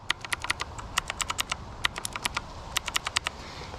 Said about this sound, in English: They probably did that because you're going to be using those keys a lot and the blue switches are loud.